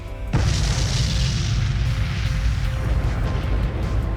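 Explosion in the Warhammer 40K Battlesector video game: a sudden loud boom hits early, then a long rumbling roar and crackle of debris and battle noise sustains to the end.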